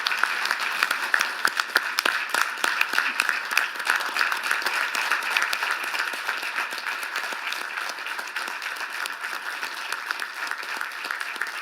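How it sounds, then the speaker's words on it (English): Attendees at a SEMAC and SEMSCO meeting give sustained applause, dense steady clapping that stays loud and even for over ten seconds with no talk over it. "you deserve a round of applause for all your service."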